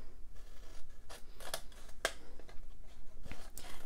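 Scissors snip paper while cutting a pattern mask: a handful of sharp, separate cuts spaced irregularly, close up against quiet room noise.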